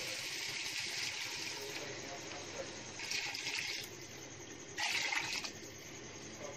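Water pours into a pot of rice being cooked for chicken pulao biryani, a steady splashing stream with louder surges partway through, heard up close in a home kitchen.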